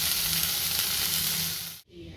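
Dhekal fern leaves sizzle loudly in a pan of hot oil, a dense continuous hiss that cuts off abruptly near the end, leaving a faint hum.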